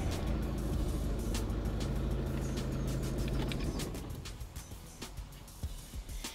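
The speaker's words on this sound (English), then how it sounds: "if you hear any rattles, then that means flywheel is on its way, like here. So you can hear like how it rattles" A Volkswagen Golf MK6 engine hums steadily while idling, then shuts off. As it winds down, a brief flywheel rattle is followed by a few scattered clicks and knocks in the quiet that follows.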